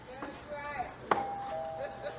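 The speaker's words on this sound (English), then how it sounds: "I rang the doorbell so I can hear how it sounds" A two-tone electronic doorbell chime rings indoors in a house, a bright tone followed by a lower sustained one, with faint background noise around it.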